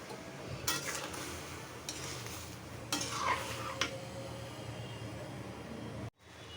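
A spoon stirs raw mango pickle cooking in a pan, scraping in several bursts over a constant low sizzle, close and fairly quiet, with no talking.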